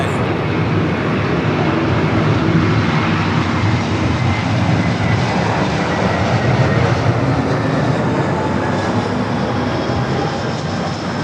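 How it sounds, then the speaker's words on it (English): JetBlue Airbus A321 jet at Los Angeles LAX airport, a loud continuous broadband engine roar holding steady throughout without any speech. "It's the JetBlue A321 coming up from JFK"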